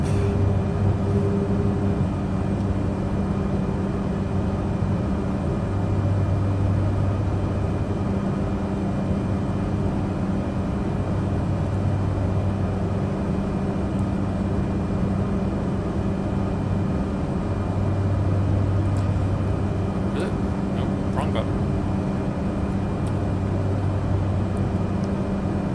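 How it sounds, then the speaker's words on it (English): A big turboprop airliner in a flight simulator climbs after takeoff with flaps up, giving a steady droning engine hum with a low pulsing throb and faint clicks partway through, and no talking. "Lovely big turboprop."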